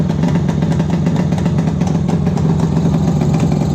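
A 1976 Suzuki GT750 motorcycle engine, warmed up with the choke off, idles steadily on its own, a continuous loud close-up burble with a faint clatter and no pauses or revving.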